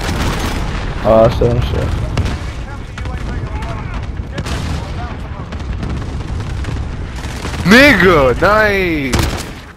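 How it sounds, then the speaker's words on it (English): Cruise missile strike explosions roll through a Rust Hardpoint battle as loud booms and rumbling blasts, with swooping whistling tones near the end, while someone talks over the noise. "Enemy cluster strike incoming. Hello, cruise missile away."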